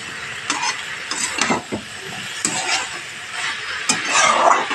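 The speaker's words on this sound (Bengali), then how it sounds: "এভাবে মশলার সাথে ভালোভাবে কষিয়ে নিতে হবে যাতে কাঁচা গন্ধ না বেরোয়" Bottle gourd and potato being stir-fried with spices for a lau ghonto, with a steady soft sizzle broken by irregular scraping stirs of a spatula against the pan, close and fairly loud, no voices.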